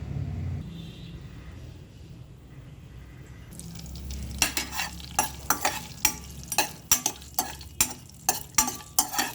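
Boiled ivy gourd (tondli) fries in a pan with mustard seeds, fenugreek and curry leaves, giving a low steady sizzle that is joined partway through by a loud, regular series of spatula scrapes and stirring strokes.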